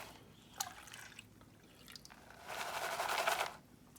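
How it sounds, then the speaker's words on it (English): Water sloshes and trickles in a gold pan as it is dipped and shaken during panning at home, a quiet, close swish that swells into a longer wash near the end with a few small drips. "I'm just going to let the water come in and out of it just a little bit"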